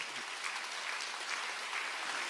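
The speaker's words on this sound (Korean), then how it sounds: "박수 세게 쳐요" A church congregation at a Friday summer revival service applauds steadily, a dense, even wash of clapping with no voices, fairly distant in the hall.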